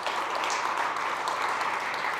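Brief, even applause from an audience at a food and environmental justice event, a soft continuous patter of clapping heard at a moderate distance.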